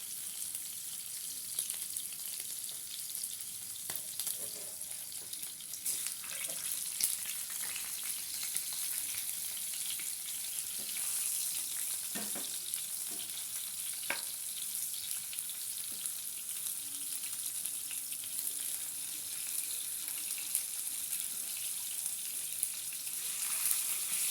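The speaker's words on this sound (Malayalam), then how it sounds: "അപ്പോൾ ഇതാ നമ്മൾ ചിക്കൻ പാനിലോട്ട് ഇട്ടിട്ടുണ്ട്. ഇനി നമുക്കതൊന്ന് പൊരിച്ചിടാം." Chicken pieces frying in a pan, a quiet, even sizzle that hisses on steadily for over twenty seconds with scattered light crackles and spatters, no voices over it.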